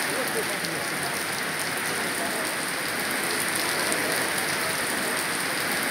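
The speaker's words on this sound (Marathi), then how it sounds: "वर्धा जिल्ह्यात सकाळपासून विजांच्या कडकडाटासह पाऊस सुरू आहे।" Heavy rain pours steadily in Wardha district, Maharashtra, during a thunderstorm, a dense, unbroken hiss of downpour on surfaces that stays loud and even from start to finish, with no voices.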